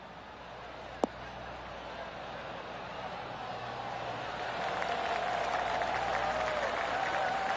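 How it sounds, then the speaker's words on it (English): Polite golf clapping from a tournament gallery in the PGA Tour 2K23 video game: steady, soft applause that swells into a fuller crowd response toward the end. "golf clap"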